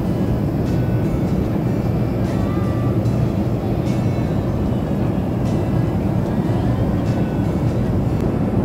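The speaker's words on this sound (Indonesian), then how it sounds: "kita terbang naik pesawat TNI Angkatan Udara" Steady loud cabin drone of an Indonesian Air Force transport plane in flight, heard from inside the cabin, a continuous low roar with no breaks and faint voices under it.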